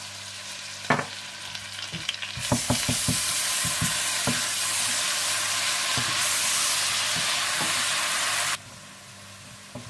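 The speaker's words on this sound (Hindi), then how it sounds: "जैसे ही प्याज हल्के से ब्राउन हो जाए तो आप इसमें अदरक लहसुन डालकर थोड़ा सा भून लें" Onion, ginger and garlic fry in a pan for palak paneer: a few utensil clinks and stirring scrapes, then a loud, steady sizzle that holds for several seconds and cuts off abruptly.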